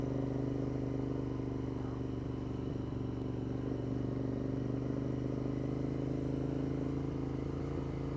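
A Royal Enfield motorcycle rides steadily over gravel and tarmac in rural Austria, giving a constant low engine drone with road rumble and a faint crunch beneath it.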